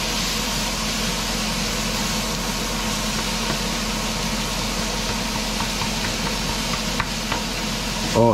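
Garlic frying in a pan, giving a steady, close, continuous sizzle with a low background hum and no talk.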